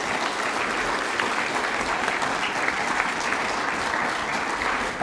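A school prizegiving audience gives a steady, full round of applause for its Central Bay of Plenty sports champions, dense crowd clapping held at an even level throughout.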